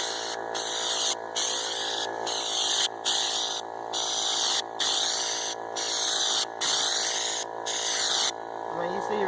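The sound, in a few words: spraying Raptor truck bed liner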